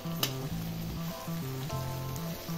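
Green chillies fry in a pan for Kolhapuri kharda thecha, giving a soft, continuous sizzle that sits beneath louder melodic background music.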